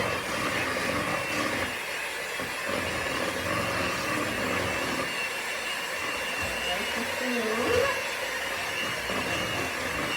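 An electric mixer beats cornstarch cookie dough for raspberry meltaway cookies, a steady whirring motor drone that holds unbroken throughout with little variation.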